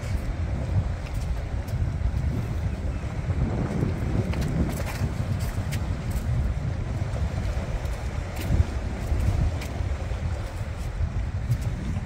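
Wind gusts steadily across a seaside fishing pier at Hartlepool, a constant low rushing roar buffeting the microphone, with faint small knocks scattered through it and no clear talk.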